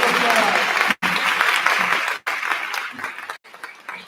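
Enthusiastic applause from a graduation audience for a retiring teacher, with dense clapping broken by a few brief cuts and a voice talking over it near the end.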